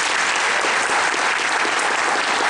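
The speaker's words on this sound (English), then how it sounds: "we applaud you for that." Sustained, dense audience applause fills the room at an Open Web Camp tribute honoring web pioneer Bebo White, loud and steady throughout without pause.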